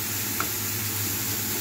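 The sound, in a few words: chopped onions frying in oil in a wok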